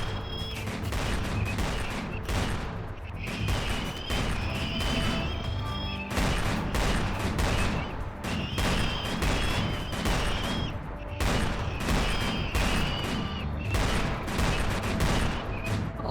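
Rapid bursts of gunfire rattle almost continuously in a skeleton war video game, loud dense volleys with booming impacts and brief lulls between waves of shooting.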